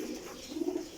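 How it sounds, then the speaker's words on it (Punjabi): A Kajal pigeon, a prized breeder kabutar, coos steadily at close range, its low throaty call swelling slightly louder near the end of the short stretch. "ਕਾਜਲ ਕਬੂਤਰ"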